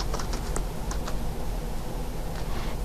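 A computer keyboard clicks under steady typing, the keystrokes coming in a soft, quick, close patter over a faint background hum.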